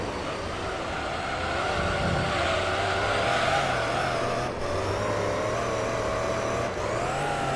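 A Gran Turismo 3: A-Spec race car in a Professional GT All Stars race drones loudly and steadily, its engine revving up and briefly dipping at two quick upshifts toward fifth gear. No one speaks.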